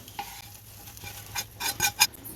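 Spiced tempering is poured into a simmering Tamil-style fish curry, a soft crackle followed by several sharp metallic scrapes and clinks of a spoon stirring in the pot, close and fairly faint.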